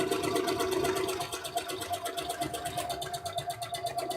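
A sewing machine stitching a square buttonhole, its fast steady rhythmic whirring close and moderately quiet, with a hum running underneath and no talking.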